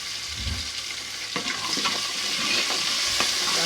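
Tomatoes frying in a pan for a plantain porridge, with a soft continuous sizzle and a few light scraping stirs close up, growing slightly louder toward the end and with no talking.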